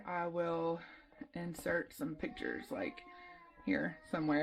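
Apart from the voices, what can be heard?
cat meowing pitifully outside in the background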